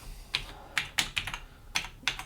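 Close, crisp keystrokes on an Atari 600XL computer keyboard during a keyboard self-test. The presses come in short, uneven bursts with no talking.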